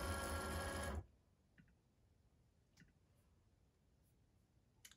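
A Cricut cutting machine loads a mat of label paper with a loud motor whir lasting about a second, followed by near quiet with a few faint, scattered clicks.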